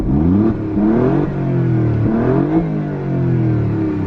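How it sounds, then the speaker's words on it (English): A 2020 Alfa Romeo Giulia Quadrifoglio exhaust in race mode, loud and close, with repeated throttle blips that rise and fall in a deep, rasping engine note. "Go straight down into race so you can hear those exhausts"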